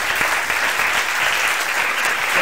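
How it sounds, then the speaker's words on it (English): Audience applause fills a live talk night at a Tokyo bar venue, a dense, steady wash of clapping from a sizable crowd, loud and continuous without pauses. "So let's give a round of applause."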